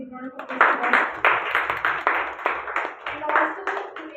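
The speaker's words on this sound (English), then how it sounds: "Can we give a big round of applause to her?" Audience clapping at a Toastmasters club meeting: a short burst of moderately close hand claps with an uneven rhythm, mixed with a voice talking over it.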